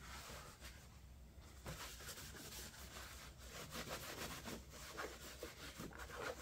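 Cloth rubbing and wiping over plastic trim on a Craftsman 22-inch walk-behind string trimmer, applying a plastic cleaner with wax, producing a continuous soft scrubbing swish with irregular strokes, close and fairly quiet.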